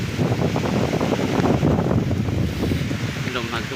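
Strong storm wind blowing hard and steadily against the microphone, a loud roaring rush that stays constant with no talk over it.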